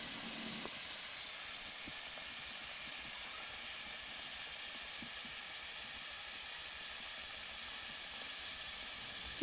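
Spice paste frying in a pan with a little water for a Bengali cauliflower and prawn curry, a faint steady hiss and sizzle running evenly throughout with no talking.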